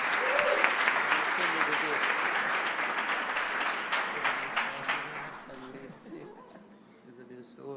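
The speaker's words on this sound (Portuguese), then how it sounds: "Vamos aplaudir Jesus." Congregation applauding during a Brazilian church celebration service, with steady dense clapping that fades after about five seconds into scattered claps under a voice.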